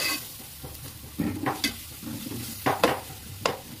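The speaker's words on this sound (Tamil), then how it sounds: "ஆட் பண்ணிட்டு இதே நல்லா ஒரு தடவை வறுத்துடணும்." Masala for a South Indian chicken biryani gravy being stirred and fried in a heavy pan, with a low background sizzle broken by several sharp scraping stirs of the spoon at close range.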